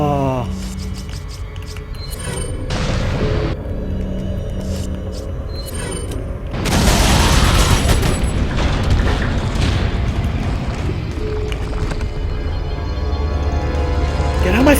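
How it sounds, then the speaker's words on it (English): Grenade blast in Resident Evil 4, a loud booming explosion about midway, heard among game sound effects and mechanical clatter, with someone talking excitedly over much of it. "It's in front of my face, so I'm gonna use grenade"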